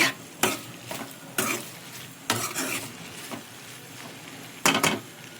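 Potato fry being stirred in a pan, with a handful of separate scraping strokes at uneven intervals over a steady frying sizzle. The stirring is close and clear, and no voices are heard.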